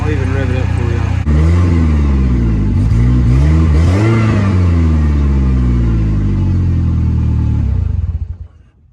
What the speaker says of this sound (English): I'll even rev it up for y'all.